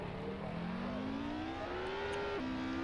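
Elysia JSA S1 car in Assetto Corsa racing game, a steady engine drone rising in pitch as it accelerates, then a short dip, sounding fairly distant and smooth under a constant hiss.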